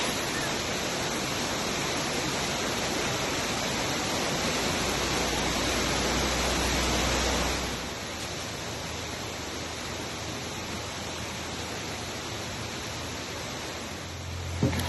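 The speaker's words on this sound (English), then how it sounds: "So all of a sudden it started pouring. I hope you guys can still hear me with the rain." Heavy rain pours steadily onto a greenhouse roof, a dense continuous broadband hiss that eases slightly partway through but keeps drumming throughout, loud and close with no talking over it.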